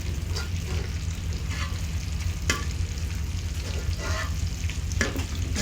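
Large pieces of tofu fry in a pan with an even, continuous sizzle, broken now and then by brief scrapes and clacks of stirring.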